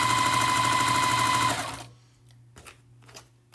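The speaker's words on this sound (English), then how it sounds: "I think I'm just gonna go ahead and sew it on to kind of see how this tree builds" A sewing machine stitches quilt squares for a Christmas tree quilt top in a loud, fast, steady run that stops after about a second and a half, followed by quieter handling sounds.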